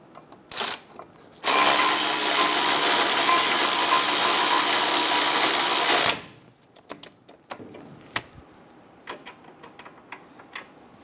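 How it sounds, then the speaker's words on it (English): On a 2010-2014 Subaru Outback, caliper bracket bolts are run down with a power tool, a loud continuous whirring burst lasting about five seconds, framed by short clicks and clanks of handling tools. "Get the bolt started. Snug the bolts down."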